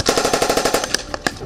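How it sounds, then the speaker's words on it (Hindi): Ukrainian soldiers fire a machine gun on a live-fire training range, letting off a loud, fast burst of rapid shots. A few spaced single cracks follow. "इस दौरान यूक्रेन के सैनिकों ने लाइव फायरिंग की"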